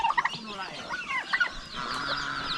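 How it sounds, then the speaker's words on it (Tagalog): Chickens and newly hatched chicks on a farm cluck and peep close by, in a busy run of short calls with a few louder bursts, and no talking. "Tapos may mga bagong sisiw kami dito."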